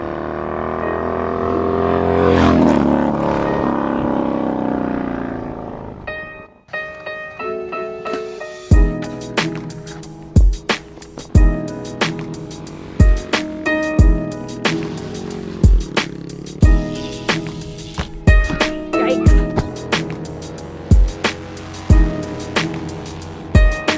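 Honda Grom small motorcycle engine revving in repeated short bursts during wheelie attempts, a long strained rev followed by a steady rhythm of sharp throttle blips, close and loud with no talk.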